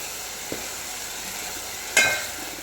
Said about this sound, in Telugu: దీనిలో వేపుతూ ఉండాలి.